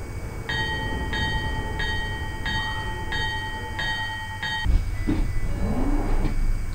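A London Underground Northern Line train runs with a steady close rumble, a series of repeated door warning beeps, then sliding doors thudding shut and the motor whine rising as it moves off.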